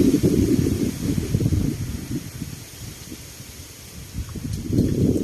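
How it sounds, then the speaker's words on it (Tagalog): Strong mountain wind in Nasugbu, Batangas, blasts against the microphone in heavy low gusts, easing midway before surging again, loud and near. "Napakahangin po dito. Grabe yung hangin."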